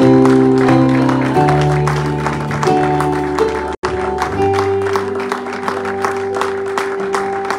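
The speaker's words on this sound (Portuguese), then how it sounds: "Aplauda o Senhor Jesus" Rhythmic clapping from a church congregation runs under sustained organ-like musical chords throughout, with a brief dropout in the middle.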